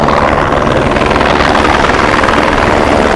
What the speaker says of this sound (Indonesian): kalau yang ini helikopter polisi udara